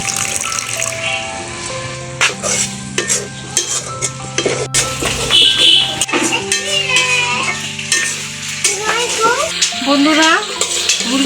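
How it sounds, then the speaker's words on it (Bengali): Water is poured into a pan of chicken skin frying in spices, bringing a gushing splash and loud sizzle followed by stirring and clinks of a utensil, with music playing underneath. "মুরগির চামড়াটা একটু সিদ্ধ হওয়ার জন্য পরিমাণ মতো পানি দিয়ে দিচ্ছি"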